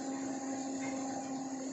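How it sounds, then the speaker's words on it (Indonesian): An electric blender grinds shallots, garlic and galangal, a steady high-pitched motor whine with a strong constant tone, running without pause. "Nah kita siap blender guys, bawang merah, bawang putih,"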